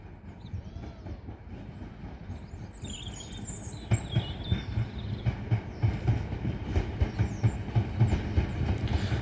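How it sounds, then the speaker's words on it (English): A Southeastern passenger train from London Charing Cross arrives at Tonbridge station, its wheels clattering rhythmically over rail joints and growing louder as it nears, with faint high squeals from the wheels. "approaching now is the 1043 Southeastern service from London Charing Cross to Tonbridge"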